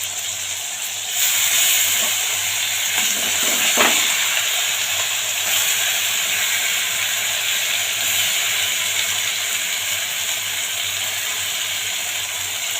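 Drumstick flower, green chili and white mustard paste hits a hot pan, giving a steady close sizzle and hiss throughout, with a brief louder crackle near the start and light clinks from utensils.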